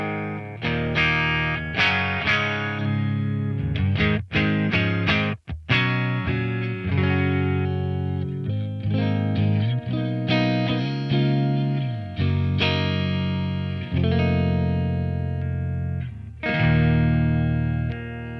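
A 1955 Custom Shop reissue Stratocaster runs through a Snake Oil boost pedal with no reverb or delay, playing chords and single notes in a continuous, loud, clean-toned phrase.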